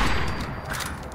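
Dense burst of rapid gunfire as a raider is shot in Fallout 4, loud and continuous across the whole moment with no voices over it.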